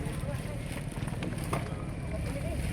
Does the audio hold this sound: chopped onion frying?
no